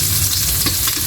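Garlic and onion sautéing for squid adobo produce a loud, dense, close sizzle that continues steadily throughout, with faint stirring under it.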